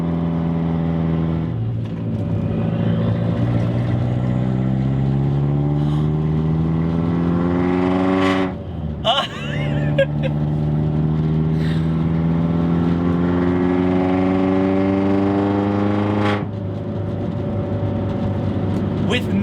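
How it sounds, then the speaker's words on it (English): A boosted Mini with its rear stripped of seats and sound deadening revs hard, its raw exhaust climbing in pitch over several long pulls, dropping off sharply between them, loud and close throughout. "the only thing you hear is exhaust, and it's so awesome."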